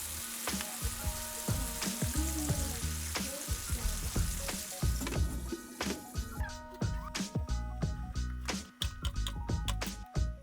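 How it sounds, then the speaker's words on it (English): Turkish beef sujuk and eggs cook in a covered pan, giving a loud close sizzle with sharp pops and clinks of the lid and utensils, crackling on throughout. "I add eggs and close the lid and cook a little."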